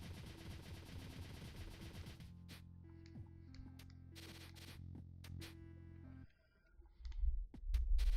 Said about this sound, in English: A lot of bosses are fairly trivial with a level 3 machine gun.